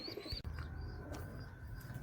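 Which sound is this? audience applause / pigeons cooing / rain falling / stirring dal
pigeons cooing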